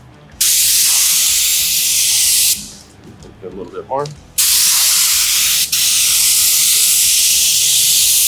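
A paint spray gun hisses loudly in long continuous blasts, pausing briefly while a person speaks a few words, then spraying again.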